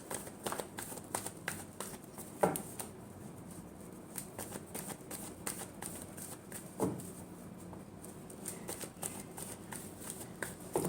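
Tarot cards being shuffled by hand, giving repeated crisp riffling flutters and soft slaps in irregular bursts, close and moderately quiet.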